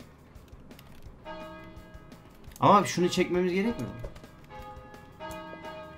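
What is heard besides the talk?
bell ringing in the video game Havocado: Ragdoll Fighter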